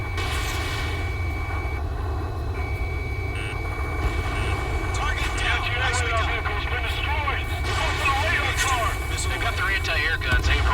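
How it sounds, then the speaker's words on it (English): Enemy aircraft roar overhead during an air raid in the Ace Combat 7 video game, a steady loud engine drone with whooshing passes layered over game voices. "It's an air raid. We're being attacked by enemy aircraft."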